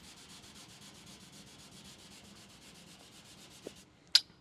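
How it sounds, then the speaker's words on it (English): Steady, rhythmic strokes sanding a car's clear coat rub back and forth quietly, ending with a couple of sharp taps or clicks. "I'm going to keep sanding."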